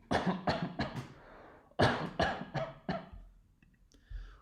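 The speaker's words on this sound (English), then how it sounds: "And we start coughing." Repeated coughing in two bursts, several harsh coughs each, close and fairly loud, followed by a few quiet clicks and rustles.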